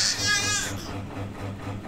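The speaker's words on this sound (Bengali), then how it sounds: "ছাগল" A goat gives a single wavering bleat lasting under a second, followed by a low, steady background hum with no further calls.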